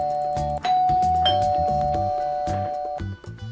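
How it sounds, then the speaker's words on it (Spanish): A doorbell chimes inside the Roblox game Brookhaven, a clear ringing tone held for several seconds over a bouncy in-game music loop, with no voices. "Y vamos a tocar el timbre, a ver."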